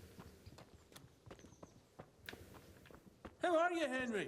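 Horse hooves in Kingdom Come: Deliverance clip-clop at a walking pace, soft irregular taps, before a voice cuts in near the end.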